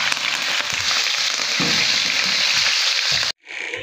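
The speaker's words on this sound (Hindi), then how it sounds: "तड़का लगा रहे हैं अब कड़ी को" Loud, steady sizzle of tempering spices crackling in hot oil for karhi, dense and continuous, then a sudden brief drop before the hiss resumes more softly.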